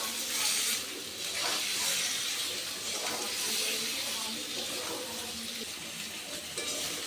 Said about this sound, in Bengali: মশলার সাথে আলু আর বেগুন ভালো করে কষে নেব